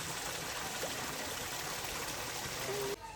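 Water at Chilakalagutta near Medaram flows and trickles with a steady, fairly loud rush close by, then drops away abruptly near the end.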